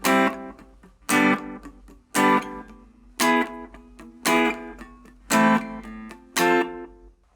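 Electric guitar strums the pre-chorus of a northern soul song, seven sharp chord stabs in a steady rhythm with brief ringing between, played alone and close.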